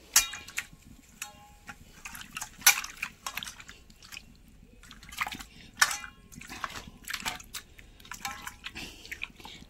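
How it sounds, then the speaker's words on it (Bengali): Tangra fish rinsed with hot water in a kitchen: close, irregular splashing, dripping and light clattering in short bursts, with no talking. "গরম জল দিয়ে এই মাছগুলো ভালো করে ধুয়ে নেব।"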